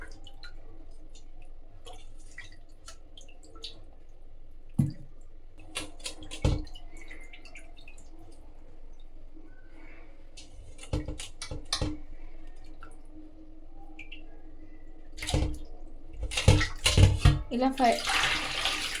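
Fish is washed by hand in a basin of water, with soft splashes and drips under a quiet voice, then a louder burst of sloshing near the end.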